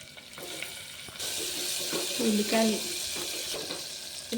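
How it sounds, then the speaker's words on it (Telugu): Thinly sliced onions fry with cloves, cardamom, cinnamon and shahi jeera in a pan for mutton curry, giving a continuous close sizzle with light stirring and scraping. "కొంచెం వేగాక సన్నగా తరిగిన ఉల్లిపాయలండి"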